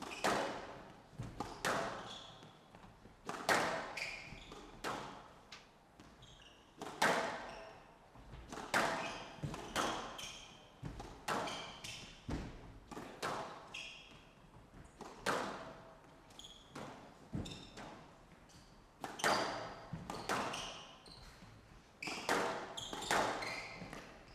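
Squash ball struck repeatedly in a professional rally at the Paris Squash 2023 match between Momen and Cardenas, sharp irregular thwacks echoing off the walls with squeaking shoes, no talk.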